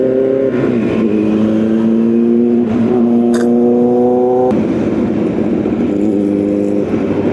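A big bike motorcycle engine drones loudly close by with steady harmonic tones that shift in pitch as it accelerates and passes, with an onboard engine hum continuing underneath.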